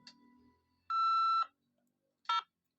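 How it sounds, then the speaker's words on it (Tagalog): Beep tones from a Converge customer service hotline's phone menu: a steady, clear tone lasting about half a second, a pause, then a shorter second beep, with no voices. "Bago nyo pindutin, antayin nyo muna yung beep."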